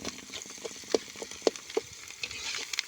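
Cooking oil sizzles in a pan, a soft steady crackle with a few sharper pops and stirring clicks, close but fairly quiet.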